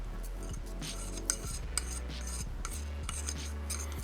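Foundation is mixed with a darker powder for makeup, giving close, steady clinking and scraping of a utensil against a small dish, with light repeated taps in an uneven stirring rhythm.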